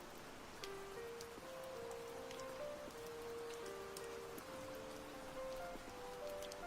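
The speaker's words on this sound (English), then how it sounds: "we got rain sounds on, because it's nice and relaxing" Gentle recorded rain patters steadily on a surface in the background, with soft droplet ticks throughout and faint sustained tones layered over it, with no voices.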